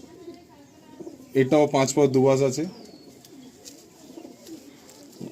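A Malwai pigeon coos in a cage, giving a short burst of rolling, throaty calls close by, with someone talking quietly before and after.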